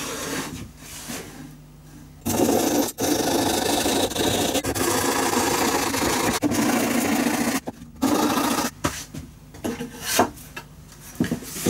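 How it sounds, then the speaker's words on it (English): A hand saw cuts through the wooden top of a violin, a steady, close scraping rasp that runs for several seconds with a few short pauses between strokes. "I can go ahead and cut this out. I will use my hand saw."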